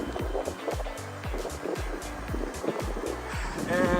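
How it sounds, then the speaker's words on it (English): Gusty wind buffets the microphone outdoors beside a Ford F-150 pickup, with steady low rumbling bursts rolling on and off throughout and a voice speaking faintly underneath. "Excuse the wind, I know it's a little windy out here"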